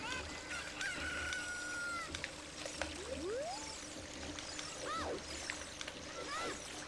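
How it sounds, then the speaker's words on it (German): A chicken from Zelda: Ocarina of Time Master Quest clucks and squawks in quick bursts over game music and effects, fairly faint in the mix. "Das Huhn, es haut doch ab!"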